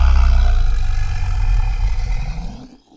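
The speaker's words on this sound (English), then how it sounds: "It's mostly about human vocalizations played at lower speed and processed in a way they no longer sound human" A deep, growling creature roar made from a human vocalization slowed down and processed until it no longer sounds human; one loud, sustained rumbling call with no talk, fading out near the end.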